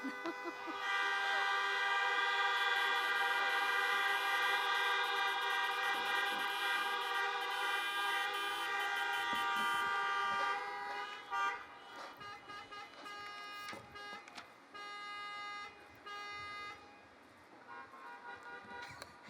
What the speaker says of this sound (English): Honk as loud as you can.